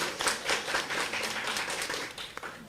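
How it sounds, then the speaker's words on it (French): Steady hand clapping from a crowd at a dedication ceremony in Conakry, a dense, continuous patter of applause at moderate loudness throughout, with faint voices mixed in. "Applaudissez pour lui s'il vous plaît."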